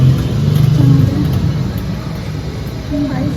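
A Harley-Davidson motorcycle engine runs in a museum display, giving a loud low rumble that swells briefly as if revved, then settles to a steady drone while people talk over it.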